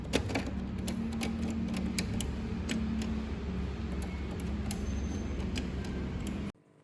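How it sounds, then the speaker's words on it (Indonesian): Typing on a typewriter in a dramatized historical scene: rapid, irregular key clicks and clacks over a steady low background hum, continuing for several seconds before cutting off abruptly. "Sayuti Melik pun mengetik naskah proklamasi"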